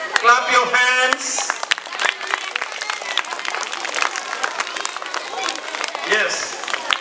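Young children clapping their hands together at a kindergarten Krishnashtami celebration, a quick patter of many small claps mixed with an adult voice talking and a lively room.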